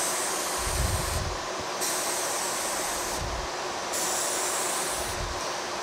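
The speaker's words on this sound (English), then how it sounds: "So I'm gonna turn on my dust collector again." A workshop dust collector running while an end table is spray-finished, a loud, steady broadband roar and hiss that stays unchanged throughout, with faint low thumps underneath.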